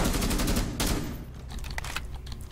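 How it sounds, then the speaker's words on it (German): Rapid bursts of gunfire in Rainbow Six Siege, shots fired through a wall, loud and close with a dense volley in the first second, then scattered sharper single shots that trail off. "Ich schieße einfach so durch die Wand"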